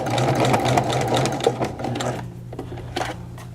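A sewing machine stitches through the thick layers of a blazer lapel and shoulder seam, with a steady, close, loud run for about two seconds before slowing into a few short bursts.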